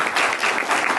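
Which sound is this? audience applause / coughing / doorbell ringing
audience applause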